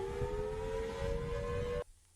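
Sirens in the Local 58 analog-horror broadcast: a sustained, loud droning wail with steady harmonic tones over a rumbling low bed, holding for nearly two seconds before cutting off abruptly into near silence.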